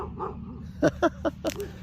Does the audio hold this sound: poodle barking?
yes